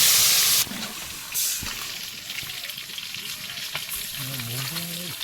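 Water poured into a pan of fried bitter gourd gives a loud hissing burst, then settles into a softer sizzle and bubbling while a voice talks over it.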